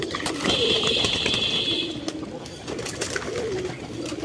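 Soft, low cooing of local Golla pigeons murmurs steadily throughout, with a thin steady whine and light background rustling.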